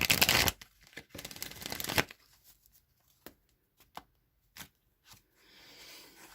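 Oracle card deck shuffled by hand in quick riffling bursts, loud and dense at first, then a few scattered soft taps and slides of cards, with a light rustle at the end.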